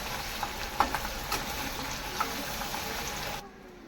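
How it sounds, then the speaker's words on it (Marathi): Spoon stirring turmeric and spices in a hot oiled frying pan for a cabbage bhaji, with a steady close sizzle, a few light clinks, and the frying cutting off abruptly near the end. "सर्व मसाला छान एकदा मिक्स करून घेऊया"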